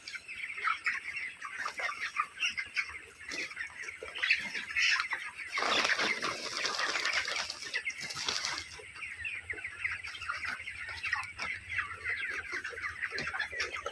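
A barn full of broiler chickens clucks and chatters continuously while drinking water, a dense close flock sound with bursts of wing flapping near the middle.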